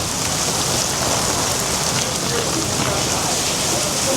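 Heavy rain from a tropical storm pours down in Miami Beach, a dense, steady hiss of drops hitting surfaces that stays constant and loud from start to finish, with no talk.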